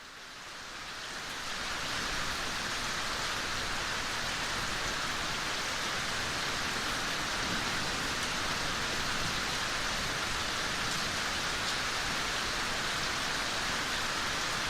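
Steady heavy rainfall fills the scene of an audio drama, a dense continuous hiss that swells up over the first two seconds and then holds evenly, with no voices.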